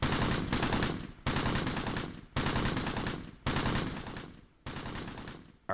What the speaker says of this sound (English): Let Evan keep shooting for a minute.